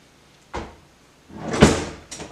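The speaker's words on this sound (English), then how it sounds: "when I open it, I just hit the handle" A kitchen drawer slides open and knocks against the handle of a neighbouring drawer, a short thud followed by a louder rattling bump and a final clack, close and alone.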